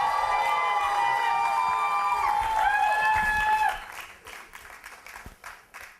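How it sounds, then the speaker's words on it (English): A crowd cheers and shouts over applause for a speaker at a humorous speech contest. The noise is loud and dense for several seconds, then fades into scattered, thinning claps. "Round of applause, please"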